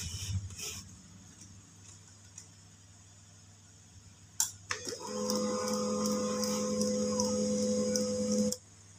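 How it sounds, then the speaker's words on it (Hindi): A Canon LBP 2900B laser printer starts up after its scanner unit has been replaced. A quiet ticking opens, then a sharp click, and a steady mechanical whir with a tonal hum runs for about four seconds before it stops abruptly. "आप देखोगे प्रिंटर एक सेकंड के लिए इंस्टॉलाइज होगा और फिर उसके बाद ये बंद हो जाता है"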